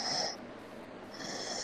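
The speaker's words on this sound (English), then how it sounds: "snoring again" A person snoring in slow, rasping cycles, with a loud inhale-like rasp at the start, a brief lull, then a second rasping snore building toward the end, close and alone.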